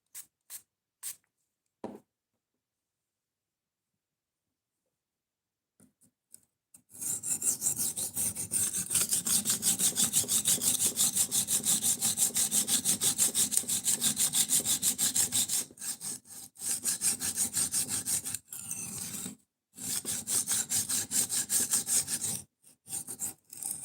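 A knife blade drawn rapidly across a sharpening stone, making a steady, close scraping rasp that runs fast and continuous for several seconds, pauses briefly, then resumes in two shorter bursts, after a few isolated taps at the start.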